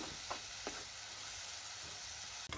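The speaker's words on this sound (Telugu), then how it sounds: "వీటిని కూడా వేసేసుకొని మంచిగా ఫ్రై చేసేసుకుందాం." Onion and tomatoes fry in a pan for a prawn curry, a steady soft sizzle and hiss that runs throughout, with a couple of faint stirring scrapes and no voices.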